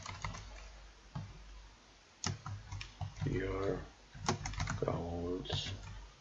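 Fingers typing on a computer keyboard while writing a Facebook banner, a steady run of close, crisp key clicks with brief pauses, partly under a speaking voice.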